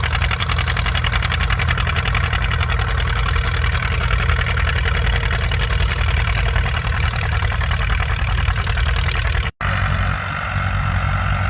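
Antique WD 45 tractor at a plow day, its engine chugging steadily with a rhythmic knocking beat, loud and close, a brief dropout near the end before it carries on.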